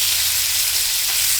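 Trout pan-frying until crispy, a loud close continuous sizzle and hiss with no pauses, heard on its own.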